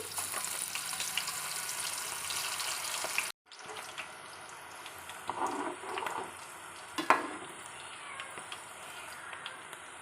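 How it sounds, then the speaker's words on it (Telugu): Onion pakodas go into hot oil in a kadai on a medium flame, a steady crackling sizzle after a brief cut, with a few louder splashes and pops as pieces drop in. "ఆయిల్ వేడయ్యాక ఇప్పుడు పకోడీలని వేసుకోండి"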